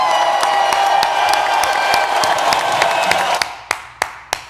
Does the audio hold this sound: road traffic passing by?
no